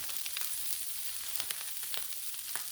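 Pork sizzling on a Blackstone griddle outdoors, a steady close hiss of frying with small crackles and pops scattered throughout.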